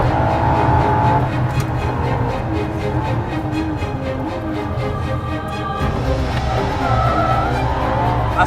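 A Ferrari LaFerrari's 960-horsepower engine revs hard toward 9,000 RPM at full power, loud and continuous with rising pitch sweeps, a brief dip as gears shift, and tire noise underneath.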